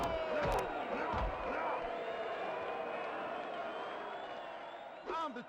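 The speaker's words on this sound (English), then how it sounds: "they're booing me because I'm, you know, the newcomer" A video-game arena crowd in Ready 2 Rumble boxing roars and boos in a dense, sustained wash that slowly fades. A few sharp game hits and effects cut through near the start and the end.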